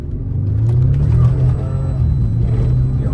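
A Genesis G70 V6 engine revs with a deep, loud rumbling growl that swells and eases over a few seconds, heard up close without talk.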